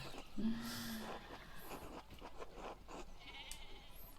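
A single sheep bleat rings out near the start in the medieval-style game Pentiment, a short wavering call heard over a soft outdoor ambience with faint rustles and footsteps.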